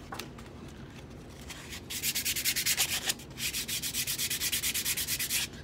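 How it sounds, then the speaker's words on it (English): Sandpaper of 180 grit rubs back and forth over a wooden turkey pot call, a faint opening giving way to loud, rhythmic rasping strokes close by, with no voices. "just want to sand it till it becomes smooth to your liking"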